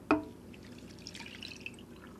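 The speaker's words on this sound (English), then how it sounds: "And then it's just adding a cup of water." A cup of water is poured over pork in a crock pot, with a short splashy onset followed by a faint, quiet trickle close by.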